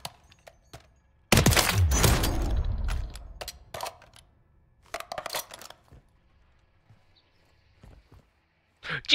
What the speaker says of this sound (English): That's someone up the hill sniping.